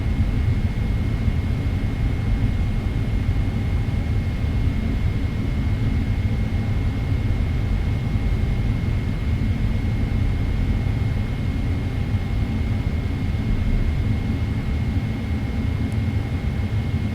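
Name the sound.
Boeing 777-300ER jet engines spooling up for takeoff, MSFS 2024 video game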